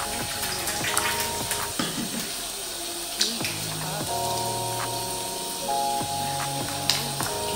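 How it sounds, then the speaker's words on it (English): Water splashes and drips at a bathroom sink as it is patted onto a face during a morning skincare routine, with soft, irregular wet slaps over a running tap and quiet background music. "So I'm going to put a little water on my face."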